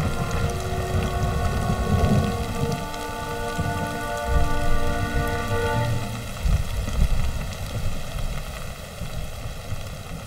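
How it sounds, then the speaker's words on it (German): Rain falls steadily in the mountains, a continuous dense hiss throughout, with a faint tonal drone beneath it and no voices. "suchen wir Schutz, bevor der Regen stärker wird"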